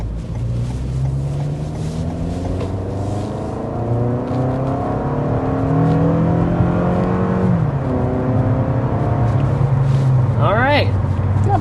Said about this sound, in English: Quick acceleration up to about 60 miles an hour with this 2024 Toyota Camry